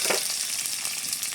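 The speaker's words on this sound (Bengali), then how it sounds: "আলুটা একটু ভেজে নিচ্ছি" Small potatoes fry with onions in hot oil, giving a dense, continuous close-up sizzle with no pauses or voices over the brief moment.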